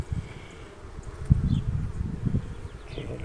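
Honey bees swarm around open frames of a hive where workers are building up comb, a low steady buzz with brief louder swells as individual bees pass close, alone without talk.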